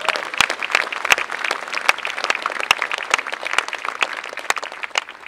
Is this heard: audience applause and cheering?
yes